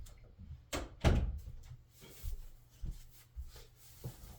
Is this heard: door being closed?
yes